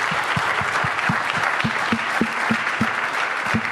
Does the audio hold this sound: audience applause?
yes